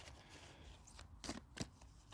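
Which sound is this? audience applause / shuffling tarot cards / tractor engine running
shuffling tarot cards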